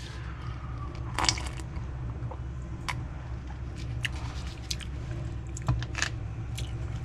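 Someone eats pho, sipping and slurping the broth at close range, with scattered soft crunches and wet mouth sounds over a quiet background hum.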